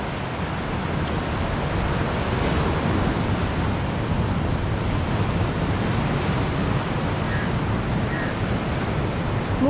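Rough ocean surf on Kovalam beach in Kerala roars as a steady, loud broadband wash of breaking waves, continuous throughout with some wind on the microphone and no talk.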